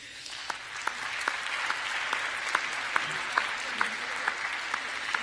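Scattered, light audience clapping at a EuroDIG 2019 conference wrap-up session honoring the host team, with sharp individual claps standing out against a steady room murmur at moderate distance.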